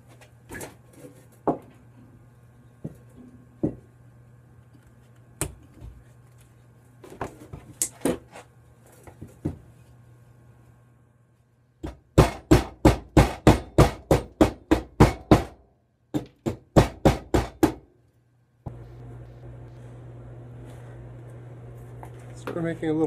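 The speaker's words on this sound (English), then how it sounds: "let's start whacking away with the hatchet and removing some material." A hatchet chops into wood to rough out a carved spoon, giving sharp knocking strikes. Scattered single blows come first, then a fast run of loud, close, rhythmic hits, then a quieter, steadier stretch.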